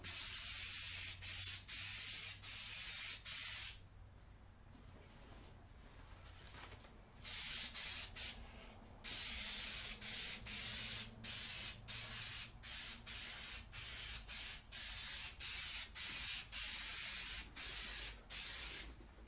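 Repeated bursts of aerosol spray hiss onto a piece of material, a dozen or more short sprays in steady rhythm, close and loud, with a brief pause partway through.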